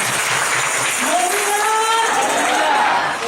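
Congregation applause at a church Bible school gathering in Riau: a dense, steady wash of clapping that fills the space, with a voice carrying over it throughout.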